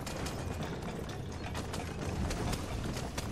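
A horse gallops in the video game Red Dead Redemption, rapid rhythmic hoofbeats over a dense, steady wash of game noise, continuous and fairly loud.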